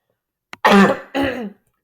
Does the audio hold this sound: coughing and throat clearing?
yes